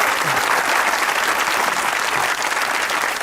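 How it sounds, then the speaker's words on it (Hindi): Loud, dense applause from the studio audience of a Hasna Mana Hai comedy talk show, a steady unbroken wash of many hands clapping together for the full length. "एक बार सही से तालियां बजाए भाई"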